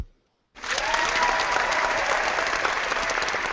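A live audience bursts into applause after a moment of silence, the clapping rising quickly and holding as a dense, loud, steady roar of many hands.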